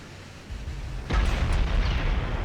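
A deep, rumbling explosion hits about a second in as a shell strikes and penetrates a ship's main armor belt in a naval warfare video game. It follows a quieter, steady background roar and sustains a heavy boom.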